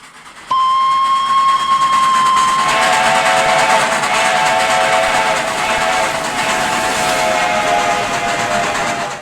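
Steam locomotive number 750 of the Atlanta chapter of the National Railroad Historical Society, on the Southern Railway steam program, pulling an excursion train: a sharp steady whistle blast opens, then a loud, continuous roar of the train passing close by.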